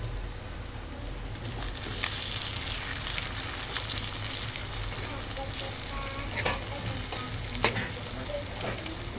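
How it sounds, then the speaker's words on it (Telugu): Onions frying in a pan for a Telangana vatti thunkalu dish, a steady close sizzle with soft crackles and a few sharp stirring scrapes, with no talk over it. "ఇప్పుడైతే ఆనియన్స్ బాగా ఫ్రై అయిపోయాయి."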